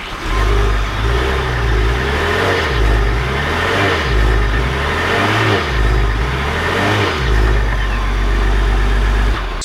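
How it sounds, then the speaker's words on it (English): A 2020 Lincoln Aviator Grand Touring hybrid SUV pulls away, its engine rising and falling through steady revs in a loud, close, continuous drone with a repeating up-and-down pitch pattern. "let's take this 2020 Aviator Grand Touring out to see how it drives"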